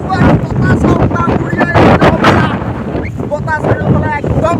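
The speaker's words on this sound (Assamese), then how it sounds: "বতাহ চাৰিওফালে একদম বৰষুণ আহি গ'ল গাছ" Gusty wind blows outdoors in the trees just before rain in rural Assam, buffeting loudly in bursts, while someone talks over it and birds chirp faintly in the background.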